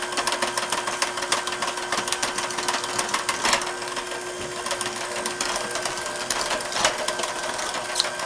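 An electric mixer running on low speed blends Honeycrisp apple snickerdoodle bread batter, giving a steady, close motor whir with faint rattling throughout and no talking.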